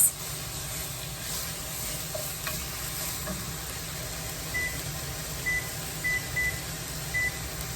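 Black beans and vegetables simmer in a pot with a steady hiss of cooking and an occasional stir, and a short series of electronic beeps sounds partway through.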